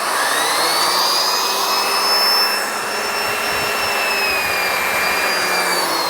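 A Miele Guard M1 Cat & Dog vacuum cleaner runs on its highest suction setting, a loud, steady, high-pitched whine that holds constant with a slight dip partway through.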